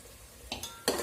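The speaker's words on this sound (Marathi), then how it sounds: "आता हे सर्व व्यवस्थित हलवून घ्यायचं आहे" A spoon stirs ingredients in a cooking pot for a quick Marathi katachi amti, giving a few faint clinks and scrapes of metal against metal over a low, quiet background.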